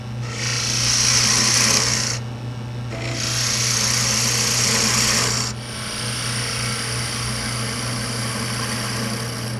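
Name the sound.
spindle gouge shaping wood on a lathe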